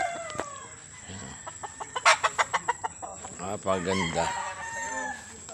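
Stag roosters on a farm: a rapid run of loud clucks followed by crowing, with other fowl calling nearby and someone speaking briefly at the start.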